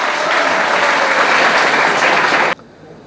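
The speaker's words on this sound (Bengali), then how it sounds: "ওর জন্য একটা হাততালি দাও সবাই মিলে।" An audience at a discussion meeting in Narayanganj claps together, a loud, dense burst of applause lasting about two and a half seconds before stopping abruptly.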